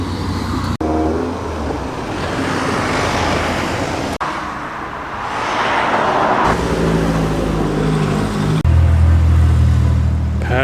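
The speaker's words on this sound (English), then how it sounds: "And arriving from a southerly direction, we have quite an early Triumph Dolomite." An early Triumph Dolomite classic car arrives at a country-house car show, its engine rumbling close by amid outdoor traffic noise, with shifts in pitch as it moves and changes gear.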